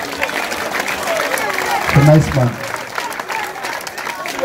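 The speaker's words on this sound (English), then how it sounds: "I need to ask una clap for you now because I deal with superintendent" An audience claps during a charity visit to Kumba Central Prison in Cameroon, a light patter of applause running under someone speaking loudly over it.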